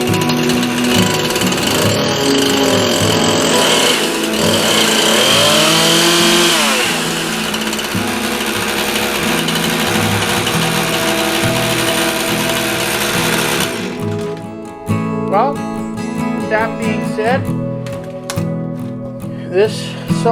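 Chainsaw engine idling steadily to warm up after a cold start, a loud close buzzing drone with a brief rev midway, then a rougher, choppier idle; someone talks over it at times.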